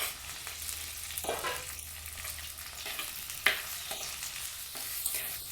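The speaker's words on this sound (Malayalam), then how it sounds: "മുരിങ്ങയ്ക്കായി ഇടാം ഒരു എണ്ണയിലൊന്ന് റെഡിയായി വരട്ടെ" Drumsticks (moringa pods) frying in oil in a pan, a soft sizzle broken by several light stirring scrapes and one sharper knock, fairly quiet overall.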